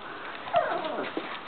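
A puppy whimpers in short, thin, high cries, a close soft whine followed by a brief yip near the end, with no talk over it.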